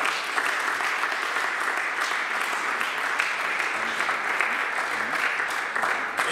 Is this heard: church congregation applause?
yes